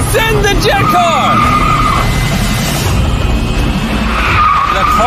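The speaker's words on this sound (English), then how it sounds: "3, 2, 1, send the jet car!" A rocket-powered jet car launches with loud, sustained tire skidding and squealing close by over a roaring engine, while excited voices talk throughout.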